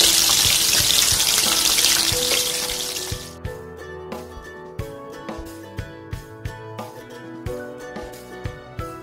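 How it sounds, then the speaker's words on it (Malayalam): Small onions (shallots) dropped into hot oil for a Kerala-style onion chutney, starting with a loud, dense sizzle that settles after a few seconds into quieter frying broken by regular clinks and taps, with no talking. "എണ്ണ ചൂടായിട്ടുണ്ട്. അപ്പോൾ ഇതിലോട്ട് നമ്മൾ ഈ ചെറിയ ഉള്ളി ഇടുന്നുണ്ട്."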